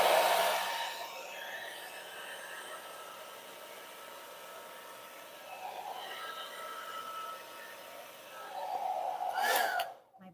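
A hair blow dryer blasts air across an acrylic Dutch pour painting on a dark base, a steady rushing whoosh that fades, swells again and grows loudest near the end as the setting goes higher.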